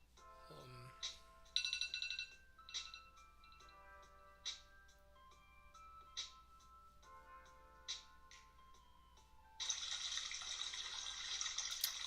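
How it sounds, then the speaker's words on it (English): Bright watery plinks and trickling chimes from a sound effect on a live Q&A stream, repeating in a steady rhythm of short drops, then swelling into a denser bubbling wash toward the end. "oh yeah, these water sounds"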